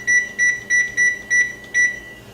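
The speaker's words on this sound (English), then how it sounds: "So I'm going to put my timer on." Six short, evenly spaced electronic beeps from an oven timer being set, each a clear high tone in a steady rhythm, with no talking.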